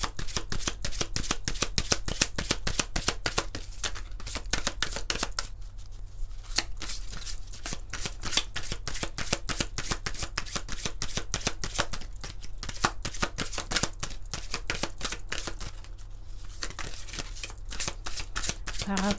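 Oracle cards being shuffled for a full-moon reading, a steady run of rapid riffling flicks with brief pauses, close and continuous, with a voice speaking over parts of it.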